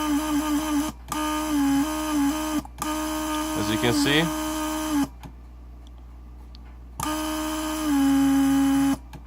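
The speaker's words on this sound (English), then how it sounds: "So what happened right now is the pump created pressure." A Mercedes 600SEL door lock vacuum pump runs on a bench in steady whirring bursts that start and stop several times, loud and close, with someone talking over it.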